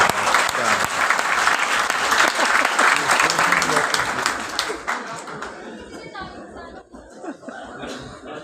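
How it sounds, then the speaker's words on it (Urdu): A large audience at a Urdu lecture gathering breaks into sustained applause with scattered chuckles and chatter, loud and dense before thinning out and fading into sparse murmurs. "تالیاں بجانے کی ضرورت نہیں ہے"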